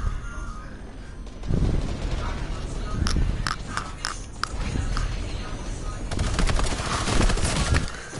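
Rapid bursts of video-game gunfire crackle in a cluster of sharp shots mid-clip and again near the end, set against steady game background noise.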